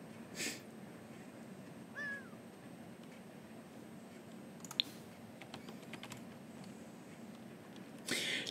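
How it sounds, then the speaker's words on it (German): A cat on a sofa in the life-simulation game The Sims 4 gives a single short meow, faint against a quiet background with a few soft clicks and taps. "Die Katze pufft da auf dem Sofa oder was?"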